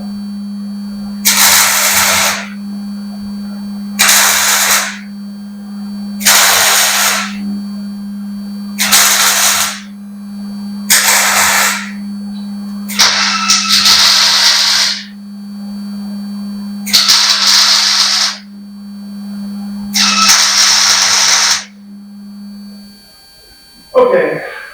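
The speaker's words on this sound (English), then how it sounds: "I've got enough welds around the outside, and I got some welds on the inside" A nut being welded onto a broken bolt: eight evenly spaced crackling welding bursts of about two seconds each, separated by short pauses, fairly loud over a steady electrical hum, with no talking.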